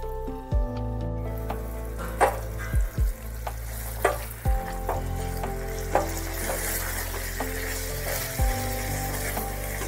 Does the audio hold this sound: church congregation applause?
no